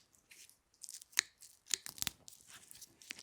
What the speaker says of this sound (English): So we just picked up this tube. I'll try to manage to cut it.